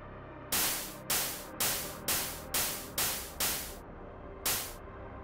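Bursts of bright synthesized white noise shaped as an open hi-hat hit in a steady rhythm, each sharp attack trailing off, with one gap before the final hit.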